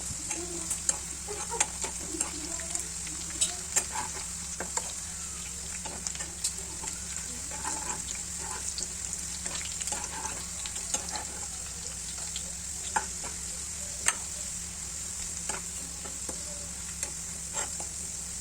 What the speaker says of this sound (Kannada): ಈ ಥರ ಸ್ಪೂನ್ಲೆ ಮಿಕ್ಸ್ ಮಾಡ್ತಾ ಇದನ್ನು ಫ್ರೈ ಮಾಡ್ಕೊತಾ ಇದ್ದೀನಿ